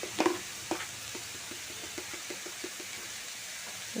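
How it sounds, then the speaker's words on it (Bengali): Spinach greens, with turmeric and salt added, are stirred in a pan over a gentle sizzle, the spatula scraping in a steady rhythm of soft, regular strokes close by. "শাকটাকে ভালো করে হলুদ লবণের সাথে মিশিয়ে দিয়ে"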